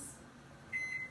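A kitchen timer set while poaching eggs on a new stove gives a single faint, brief electronic beep over a quiet room hum.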